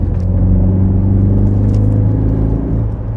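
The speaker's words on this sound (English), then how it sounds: "I think some of it is the resonance, the exhaust." Steady, loud low-pitched engine drone from a Citroën C4 with a resonant exhaust boom while driving, continuous throughout with no voices.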